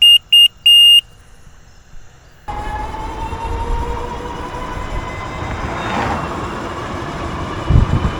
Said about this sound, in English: I forgot to show y'all the horn.